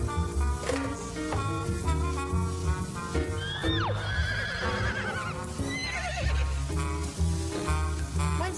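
A horse whinnies loudly twice amid hoof clip-clops and busy background music.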